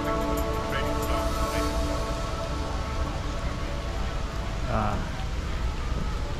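Rain falls steadily in a dense, constant wash of close hiss that stays even throughout, with a faint voice briefly audible beneath it.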